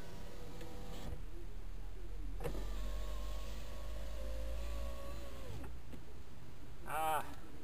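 A power window motor in a 1997 Lincoln runs for about three seconds, a steady whirring whine that shifts slightly in pitch before stopping. Faint clicks come before and after, and it is fairly quiet and close.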